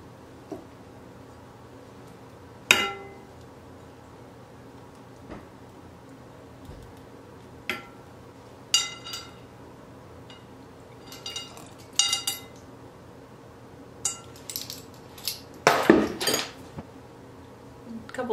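A utensil scrapes and clinks in a bowl while salt and active sourdough starter are mixed into croissant dough. Scattered close taps and knocks come irregularly over a quiet background, with a brief louder clatter near the end.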